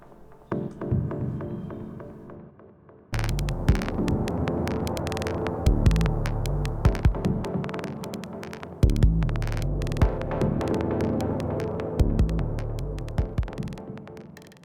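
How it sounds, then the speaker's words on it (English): A loud, droning synth with a sidechain filter keyed from the kick drum pumps rhythmically, ducking and swelling in time with a steady beat. "And some sidechain filter from the kick drum."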